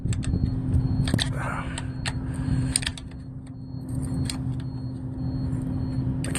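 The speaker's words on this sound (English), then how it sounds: "Right now I'm just turning the flywheel in hopes that it might find a better connection." A truck engine's flywheel is turned by hand to free a failing starter, giving a series of sharp metallic clicks and knocks over a low steady hum. The sounds are close and spaced irregularly, with no clear speech.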